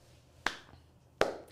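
Two sharp hand claps, close and loud, about three quarters of a second apart, each cutting off quickly against a quiet room.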